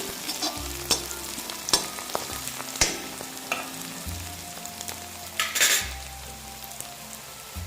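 Onions and chopped fenugreek leaves sizzle in a pan for a soybean curry, a steady frying hiss broken by sharp spoon scrapes and stirring clatter against the pot, close and fairly loud with no voices.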